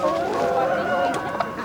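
At a busy holiday poultry market, a hen makes a short run of clucks and squawks close by, mixed into a dense crowd murmur with voices talking around it.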